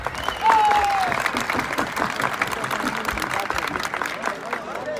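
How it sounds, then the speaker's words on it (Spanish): A crowd claps and cheers for a ranch team at a ranch tournament held at Plaza Dos Hermanos. The applause is loud and sustained, with a short whistle near the start and voices mixed into the noise. "¡El aplauso para Rancho Juquilita!"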